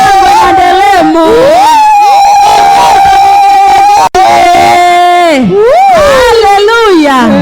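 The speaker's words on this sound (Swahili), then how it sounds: "Pigia Yesu vigelegele vya shangwe jamani" Women of a church congregation ululate and cheer in praise during a special women's service, high trilling cries rising and falling in overlapping waves, very loud and close, with a brief break midway.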